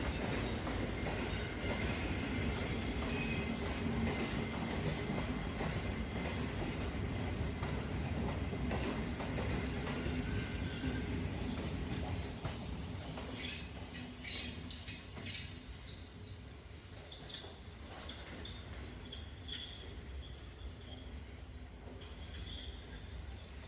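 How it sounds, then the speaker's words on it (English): A Class M2 diesel locomotive hauls the Maradana–Aluthgama slow passenger train along the track in Sri Lanka, shifting to another line: a close, loud, steady rumble with rattling wheel clicks that eases after about fifteen seconds, with no talk. "This is the Maradana Aluthgama slow passenger train with a Class M2 diesel locomotive in Sri Lanka."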